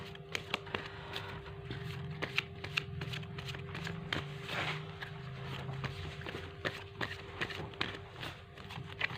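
Tarot cards being shuffled and drawn by hand, crisp riffles and sharp flicks that come close together, with a faint steady hum underneath.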